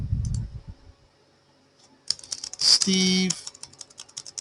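Computer keyboard typing: a burst of quick close clicking keystrokes, loud and dense, with a person speaking just before.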